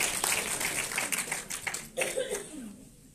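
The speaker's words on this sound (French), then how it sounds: "Ouais, applaudissez-le" A festival audience at a musical comedy event claps, bursts of applause fairly close and moderately loud, thinning toward the end with a little laughter and talk mixed in.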